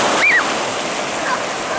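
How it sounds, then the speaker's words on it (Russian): Sea surf breaking on a beach at Anapa, a broad steady wash of waves close by with a brief high bird-like chirp near the start. "Ой, волна идет, смотри."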